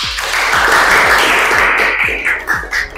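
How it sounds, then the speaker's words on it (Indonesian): Audience applause during an educational talk session, steady clapping throughout with a few low thumps, close and loud. "Tepuk tangan dulu ya"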